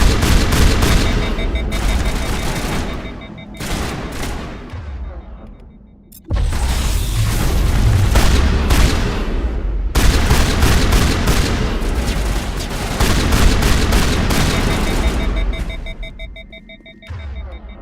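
Heavy shotgun blasts in Mass Effect 1, loud booming discharges with rattling bursts in several long dense stretches broken by brief drops, and no talking over them.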